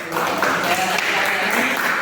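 A room of people claps together after a church pastoral-work presentation, a steady, fairly close wash of applause holding at even loudness for about two seconds.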